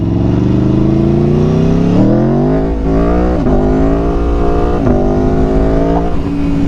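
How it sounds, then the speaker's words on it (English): A loud motorcycle engine revs hard and climbs in pitch during a power wheelie, shifting up through several gears in quick succession, up close with no talking. "Now that is a power wheelie."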